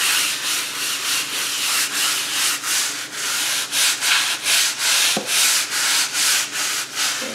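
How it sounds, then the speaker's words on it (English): A brush scrubs cleaner into kitchen tile grout in quick, rhythmic back-and-forth strokes, close and fairly loud, with no talking. "So during spring and fall cleaning, I scrub cleaner on my tile."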